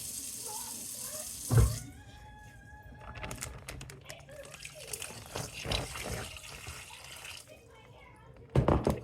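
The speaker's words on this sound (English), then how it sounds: "3 more cups of water." Water is poured from a tap into a pot of chicken, with intermittent splashing and trickling bursts. A voice is heard faintly in the background.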